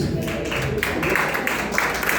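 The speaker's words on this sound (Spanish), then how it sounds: "Fuerte ese aplauso a Jesús." A church congregation claps during a Sunday sermon, giving a short burst of rhythmic, fairly close applause with distinct clap accents and faint voices underneath.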